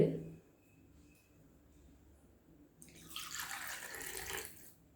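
Water is poured for a batch of aloe vera and coconut oil soap, a faint pouring splash rising in the second half after a quiet start.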